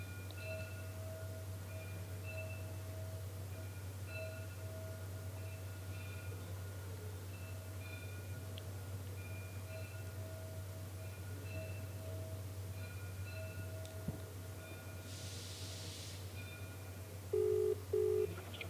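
An outgoing telephone call rings during a news channel phone-in, with steady ringback tones repeating over a low constant hum and a few short beeps near the end, no talk.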